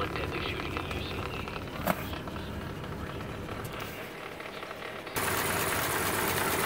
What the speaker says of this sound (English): The engine's been running for about 15 minutes total now.